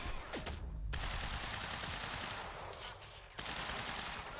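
Automatic gunfire in a shooter game, Quantum Break: loud, dense bursts of rapid shots that fill nearly the whole clip, broken by one short lull just before the firing resumes.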